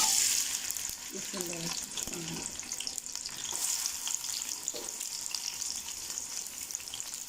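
Onions frying in a pan over a medium gas flame, a soft continuous sizzle with a few brief stirring scrapes, heard alone and fairly quiet.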